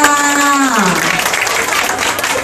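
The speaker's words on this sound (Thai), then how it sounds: "ขอเสียงปรบมือให้เกียรติท่านด้วยค่ะ" Audience applause at a corporate event in Thailand, a dense wash of clapping that holds steady and loud for the whole stretch, with a sustained tone fading out near the start.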